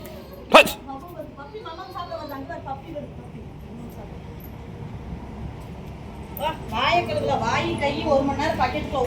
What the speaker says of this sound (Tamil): இங்கேயே தான் படுத்துருக்கு பாருங்க நாய்க்குட்டி